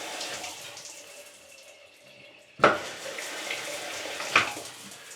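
Water runs from a sink faucet in an abandoned 1970s house bathroom, a steady hiss with two sharp knocks or clunks partway through.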